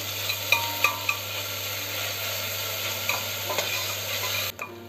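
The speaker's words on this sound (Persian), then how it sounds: "یه قاشق غذاخوری پیاز که نگه داشته بودیم اون رو تفتش میدم." A tablespoon of onion frying in about two tablespoons of oil, a continuous close sizzle punctuated by a few light scraping taps of a spoon stirring the pan, no talking.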